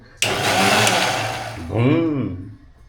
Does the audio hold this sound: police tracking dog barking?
no